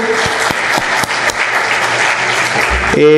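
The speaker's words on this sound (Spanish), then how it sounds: "Lo despedimos, por favor, con un fuerte aplauso." An audience gives strong, sustained applause after a doctor's conference presentation, many hands clapping steadily and close, fading at the very end.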